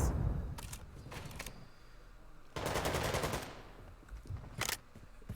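Bursts of automatic gunfire from a Call of Duty match, several sharp rapid-fire volleys separated by quieter gaps, with one long sustained burst in the middle and a short one near the end, no voices.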